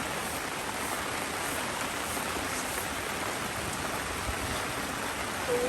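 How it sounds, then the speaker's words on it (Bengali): Heavy monsoon rain pours steadily and loudly in a darkened outdoor setting, a dense continuous hiss of drops beating on surfaces with no break and no voices. "আর এই বৃষ্টি প্রচণ্ড বৃষ্টি হচ্ছে"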